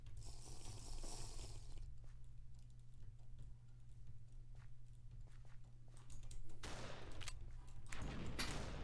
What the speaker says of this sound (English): Ah, someone's shooting me.